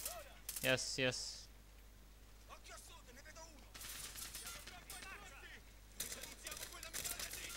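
Machine gun fire in the shooter Call of Duty: Modern Warfare, with a sharp burst of rapid shots early on, then scattered crackling gunfire and battle noise while someone talks over it.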